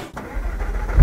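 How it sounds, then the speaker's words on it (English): A McLaren MP4-12C with a GT3 body kit fires up in Singapore, its engine catching with a short low rumble that builds loudly right at the end. "Start your engine."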